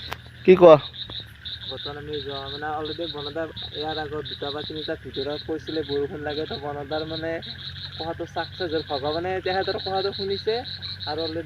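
A chorus of frogs croaking in repeated rhythmic bursts, with a faint high pulsing call above them, while someone talks over it.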